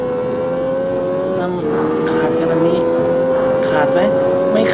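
Mini car engine racing in the video game CarX Street, a steady high engine whine with a shift partway through and nitrous boost, under someone speaking Thai.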